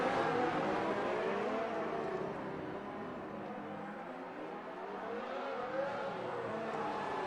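Formula 1 race cars in a Monaco Grand Prix racing video game, engines droning and whining with steady pitch swells as they rev through the street circuit, continuous and fairly loud with no talk.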